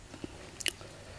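Someone chewing boiled beef tripe with spicy green papaya salad and wild olives outdoors at midday makes a single quick, crisp crunch, quiet and close, amid faint background noise.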